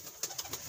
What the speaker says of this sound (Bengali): এই যে ডিম নিয়ে বসে আছে আমার আরও একটি নর কবুতর দেখেন